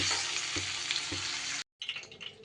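Chicken frying in a mix of oil and ghee, a loud close crackling sizzle with a few stirring knocks, breaking off briefly into silence before a softer sizzle resumes.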